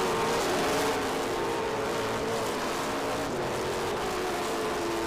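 Race cars at the Mission Foods SpeedTour at Road Atlanta drive through turns 10A and B, a steady, loud engine roar with broadband road noise that holds through the whole stretch.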